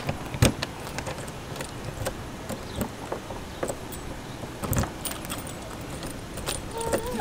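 Keys jangle in short, scattered bursts while a camper trailer door is worked open, with close metallic clinks over a faint outdoor background.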